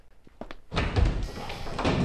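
A door opening in a science fiction comedy, with a soft knock or click, then a broad rush of sound swelling as it swings open, loud and close.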